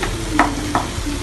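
Vegetables with ground pepper sauté and fry in a pan for a vegetable cheese sandwich, a close steady sizzle with a couple of brief stirring scrapes.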